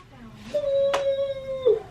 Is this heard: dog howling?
yes